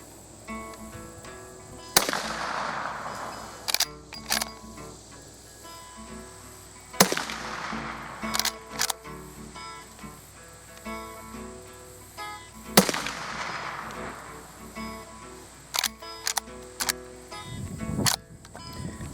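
Rifle shots from a Rossi R92 lever-action chambered in .45 Colt, three sharp loud reports spaced several seconds apart with quieter mechanical clicks and handling noise between them, no talking.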